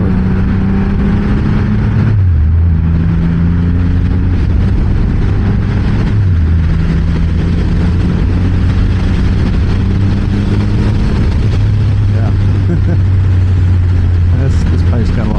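Triumph Rocket 3 GT power cruiser engine pulling hard in sport mode on an open road, a loud, steady drone that climbs in pitch through several gear stages, with heavy wind rush throughout.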